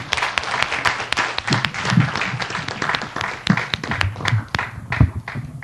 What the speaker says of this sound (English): I'd like to give a warm round of applause for our speakers here